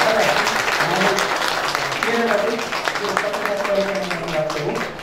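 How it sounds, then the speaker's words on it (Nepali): An anniversary-event audience applauds a record-setting runner with steady, fairly loud clapping that carries on throughout, with voices and talk mixed in underneath. "कृपया उहाँलाई एकचोटि तालीले सम्मान"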